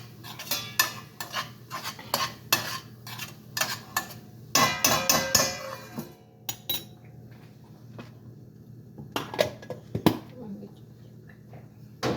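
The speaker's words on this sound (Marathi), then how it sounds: "एकदा परत ढवळून घेते कांदा छानपैकी." Onions stirred in a cooking pan with a metal utensil: rapid clinking scrapes and taps in bursts, close and clear, over a faint sizzle, with pauses between rounds of stirring.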